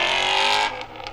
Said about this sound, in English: Love the sound of those Mustangs.